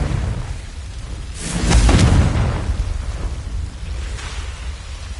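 A Confringo fire spell explodes in Hogwarts Legacy as one deep, rumbling blast swelling near the middle. A steady, noisy background runs throughout, with a fainter burst toward the end.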